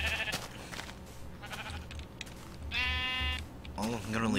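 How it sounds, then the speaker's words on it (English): Sheep bleating in the Minecraft video game, a few wavering bleats at moderate volume mixed in with someone talking over them. "since I have found some sheep"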